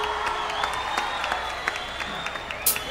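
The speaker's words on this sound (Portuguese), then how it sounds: "Palmas, palmas!" A live concert crowd applauds and cheers after a pagode show number, with sustained clapping and scattered sharper claps over a steady crowd roar, some distance away and moderately loud.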